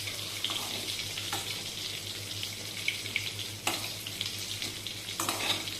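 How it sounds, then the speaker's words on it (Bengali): Fish frying in a pan on a home stove, a continuous low sizzle with occasional sharper crackles and spits, heard close and alone. "এখানে মাছ ভাজা চলছে"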